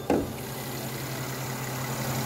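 Idling 3.0-litre V6 in a 2013 Mercedes C300 4matic with the hood open: a steady, close low hum with a brief knock at the start, running evenly and alone.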